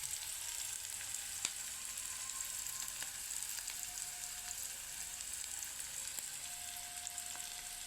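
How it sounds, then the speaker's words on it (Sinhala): Mustard seeds fry in hot oil, a dense, even sizzle with faint crackles and an occasional sharp pop, steady and close throughout. "අබ දාලා අබ පුරනකම් ඒක හොඳටම රත් වෙලා තියෙන්නේ"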